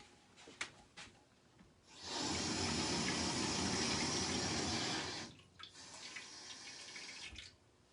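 Water pours steadily into a cooking blender, 2.5 cups from a measuring cup, in one loud continuous gush lasting about three seconds, framed by softer handling clatter and trickling.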